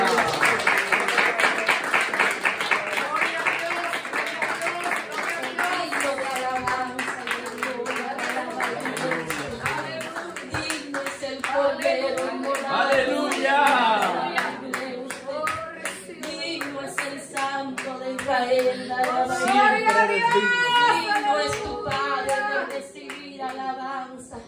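A church congregation claps rhythmically along with worship singing, steady hand claps running through the whole stretch beneath a singing voice and music.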